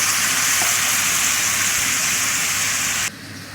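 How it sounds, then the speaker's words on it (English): Orange juice and lemon juice poured onto caramelizing caster sugar for crêpe Suzette, giving a loud, steady, hissing sizzle that runs close and continuous before cutting off abruptly near the end. "When it begins to caramelize, add the orange juice and lemon juice"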